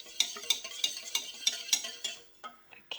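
Vanilla extract is stirred into a gluten-free vegan custard mixture, a spoon clinking against the bowl in a quick, regular rhythm of soft taps, close and fairly quiet, without talking.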